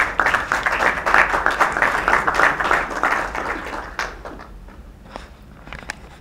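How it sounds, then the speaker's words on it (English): Press conference audience gives a round of applause, dense clapping at first that thins out to a few scattered claps before fading. "Please give her a big round of applause."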